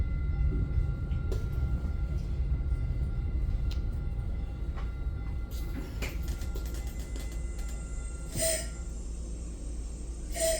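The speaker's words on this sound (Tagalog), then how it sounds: "On the train again." Inside a moving commuter train, a low steady rumble of the carriage runs throughout, with scattered clicks, squeaks and brief rattles on top, moderately quiet and with no talk.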